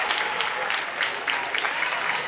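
A crowd at a girls' high school basketball game applauds a player checking out, with steady dense clapping filling the gym, fairly loud and continuous throughout.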